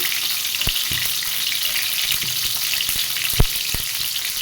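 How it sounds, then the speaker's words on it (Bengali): Pointed gourd frying in hot oil, a continuous crackling sizzle with a few sharp utensil knocks and a louder clack near the end, close and without speech. "তেলের মধ্যে পটল দিয়ে দিচ্ছি।"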